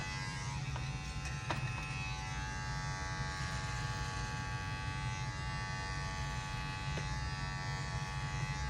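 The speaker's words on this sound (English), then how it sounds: "you can hear the hair actually stop cutting as you're coming up to blend" Electric hair clipper buzzing steadily and close while cutting hair for a low drop fade, a constant motor drone with a few faint clicks, no voices.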